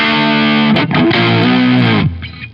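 Electric guitar played through a distortion effect in a rig recreating a song, loud sustained overdriven chords with bends and a brief dip in the middle, fading slightly at the end.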